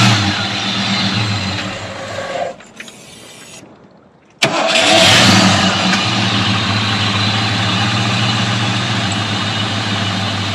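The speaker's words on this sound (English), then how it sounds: "You can hear the power steering pump a little bit, but it's ice cold." A Ford 5.0 Foxbody Mustang engine running steadily with a faint power steering pump whine, loud and close, briefly dropping off before the engine catches and settles back into a continuous run.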